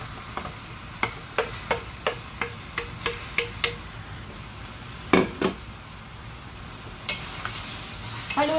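Chicken adobo with potatoes is stirred in a pot, a regular series of about ten light metallic taps followed by heavier scrapes and clinks over a soft sizzle, close and with no voices.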